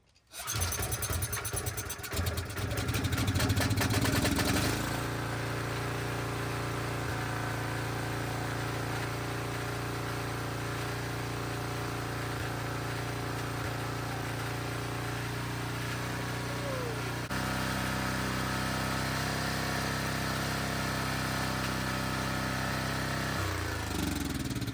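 An old gasoline generator engine, just started after sitting with old fuel, sputters loudly at first and then settles into a steady, continuous running hum that shifts slightly in pitch near the end.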